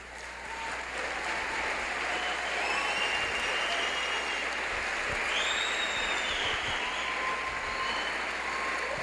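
Sustained audience applause fills a Christian science lecture hall, a steady dense wash of clapping from many hands at moderate loudness with no talk over it.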